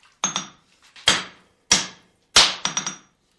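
Steel block struck while being drawn out to forge a katana blade: four sharp, loud metallic blows at irregular intervals with brief ringing decay, a few lighter taps between, no talk.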